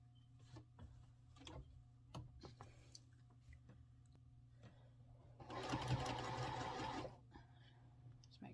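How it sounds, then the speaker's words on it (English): A sewing machine runs in one steady burst of about a second and a half, stitching quilt pieces end to end for a sampler quilt block, with scattered clicks and soft handling noises before and after. "see if we can get you guys over here to the sewing machine."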